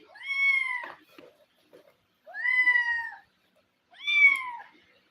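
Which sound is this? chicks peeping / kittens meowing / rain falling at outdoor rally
kittens meowing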